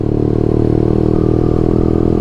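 A Kawasaki Rouser 180 motorcycle engine runs loud and close, its steady throbbing idle broken by rapid, sharp crackling backfire pops throughout.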